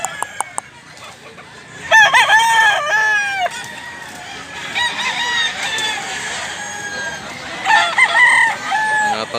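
A gamefowl rooster, a bullstag at a farm in Mantalungon, Barili, crows loudly and close several times, each long call rising and then falling. Clucks and rustling farm noise fill the gaps between crows.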